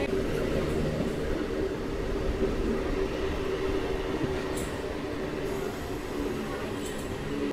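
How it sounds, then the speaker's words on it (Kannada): A Bengaluru–Kolar MEMU passenger train running along the track, heard from inside as a steady loud rumble and rattle of wheels and carriages with occasional faint squeals. "ಬೆಂಗಳೂರು ಕೋಲಾರ ಮೆಮು ಟ್ರೈನ್ ಸದ್ಯಕ್ಕೆ ತಲುಪಿದೆ ನಂದಿ ಹಾಲ್ಟ್ಗೆ"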